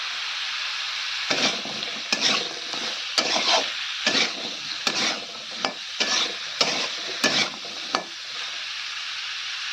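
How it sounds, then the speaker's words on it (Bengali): Mixed vegetables sautéing in a pan, a constant background sizzle broken by about ten rhythmic scraping stirs of a spatula at roughly one-second intervals, close and fairly loud. "ভালো করে দেখে 2 মিনিটের জন্য কষিয়ে নেব।"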